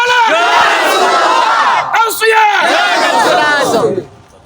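A large crowd at a religious gathering shouts the slogan Naraye Risalat in unison, a loud collective cry in two or three swelling bursts, close and powerful, ending abruptly.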